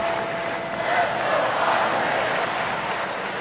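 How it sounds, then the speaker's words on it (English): A restless stadium crowd murmurs and roars at a constant low level in a baseball video game, Dodgers at Padres in the bottom of the ninth, a broad, distant rumble with no single voice standing out. "This crowd is restless and ready for that game-winning run."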